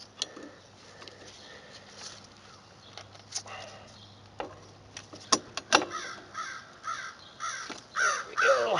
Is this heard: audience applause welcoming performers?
no